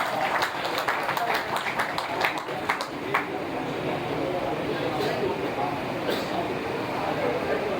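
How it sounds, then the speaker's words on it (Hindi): An audience on stage-event grounds claps in welcome for a speaker, a burst of scattered applause with sharp individual claps that tapers off after a few seconds into background murmur and voices. "तालियों से इस्तकबाल कीजिए नईमुद्दीन अब्बासी साहब।"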